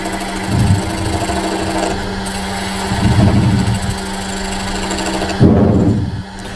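A parting tool undercuts a piece of hard, knotty maple turning on a lathe, making a steady loud motor drone with three swelling bursts of rough cutting chatter, close up and without talk.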